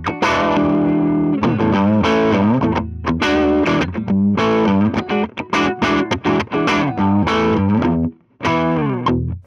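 An Orange Rocker guitar combo with EL84 valves is driven hard, pushing out loud, distorted, percussive chords in choppy rhythmic bursts with short gaps, close and without speech.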